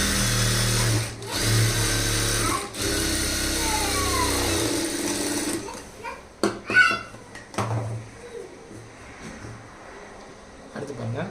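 A sewing machine stitching a blouse lining runs in loud, close bursts for several seconds, then stops, followed by fabric handling and brief taps.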